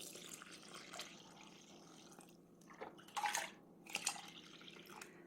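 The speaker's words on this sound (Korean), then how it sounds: "걸른 물을 이렇게 부어" Strained water poured onto glutinous rice flour for homemade gochujang, giving a soft, close trickle with a few louder splashing bursts near the end and light dripping throughout.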